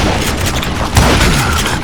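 A dense fusillade of gunfire in the western shooter Call of Juarez Gunslinger rattles continuously as bullets rain down from a house, loud and close, with booming shots layered together.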